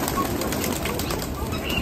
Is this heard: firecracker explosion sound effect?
no